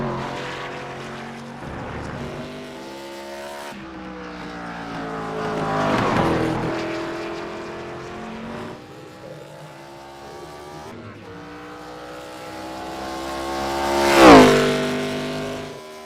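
An ARCA race car on a qualifying lap at the Glen roars past in several loud engine sweeps, rising and falling as it approaches and recedes, with the closest and loudest pass near the end.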